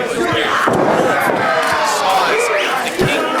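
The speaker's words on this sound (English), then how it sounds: "We have gentlemen on their feet clapping for this match." Crowd of wrestling fans cheering and clapping, a loud, busy arena din with scattered claps, thumps and shouts throughout.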